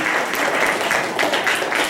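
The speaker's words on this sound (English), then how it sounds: "let's give them another round of applause" Loud, dense applause from an audience at a third-grade school play, many hands clapping continuously and close, with no voices over it.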